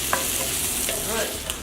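Spinach wilts in a hot pan with a steady close sizzle while a utensil stirs and scrapes it, with a few soft clacks and no talking.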